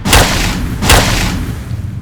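Destruction cannon firing in the mech roguelike game Death Ring: Second Impact, two heavy booming blasts about three-quarters of a second apart over a low rumbling bed.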